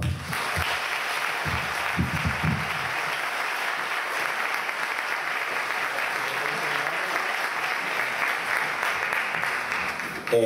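Applause from the audience at a PechaKucha Night in Ferrol, a sustained full burst of many hands clapping that holds steady throughout, with a few louder claps and faint murmurs near the start.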